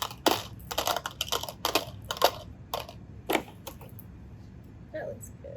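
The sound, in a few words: gravel pieces being added to a mini water filter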